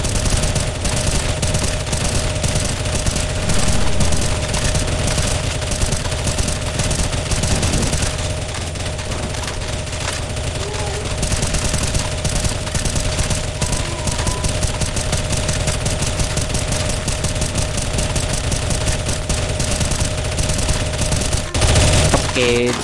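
Sustained rapid automatic gunfire from CSGO zombie escape on the ze_iceworld_athletic map, dense and loud almost throughout with constant overlapping bursts and a brief lull midway.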